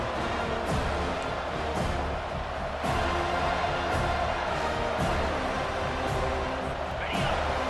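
Dense stadium crowd roar in College Football 25 during Florida at Florida State, a steady loud wash of cheering that rises and swells for the defense on third down, with a commentator's voice running over it.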